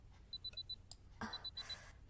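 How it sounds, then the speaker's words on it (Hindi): An alarm clock rings in short repeated bursts of bright high beeps, fairly quiet and indoors, with a brief rustle partway through and no talking. "खुशी, अलार्म बंद कर दो।"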